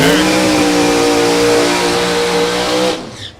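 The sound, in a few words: loud drag racing car accelerating down the strip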